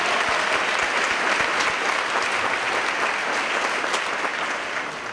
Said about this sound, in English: One more round of applause for Owen.